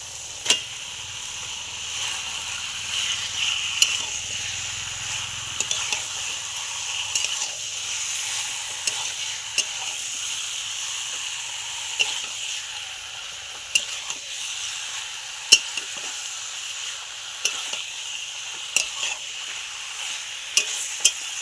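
Washed meat, for a meat-and-taro curry, goes into fried spice paste and is stirred, giving a soft sizzle under repeated sharp scrapes and taps of a spoon against the pan, close and unhurried.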